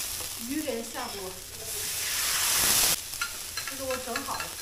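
Small willow minnows sliding into a large hot iron wok over a wood fire in a Northeastern Chinese village kitchen, a sudden loud hissing sizzle rising for about a second and then cutting off, with speech-like sounds before and after.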